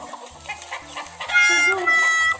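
A chicken clucks and then gives a louder crowing call during an animal sounds guessing game. The call is brief and prominent, lasting about two seconds over a low droning background.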